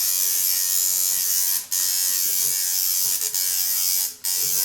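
A tattoo machine buzzing steadily, loud and close, with its hum briefly dropping out twice as the homemade setup cuts out.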